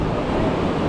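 Roaring rush of water near a river while rafting at Shivpuri near Rishikesh, a loud, close, continuous wash mixed with wind buffeting, with no talk.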